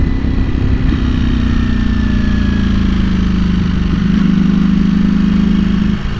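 A Ducati Panigale V4S idles steadily beneath a large bridge across Tokyo Bay, its loud, smooth engine drone holding a constant low hum that dips slightly in pitch partway through, close up and alone without speech.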